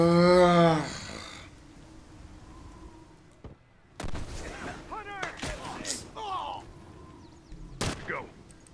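Rifle shots crack out in The Last of Us Part 2 online multiplayer, several sharp loud reports spaced across the clip amid shouting voices and game effects.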